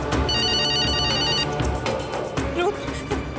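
A telephone rings with a repeating electronic ringtone trill, clear and prominent over background music with some voices, then stops partway through.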